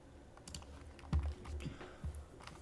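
Fingers tap a computer keyboard while entering text into a web input field, a quiet run of irregular clicks with a few heavier keystrokes, close and alone.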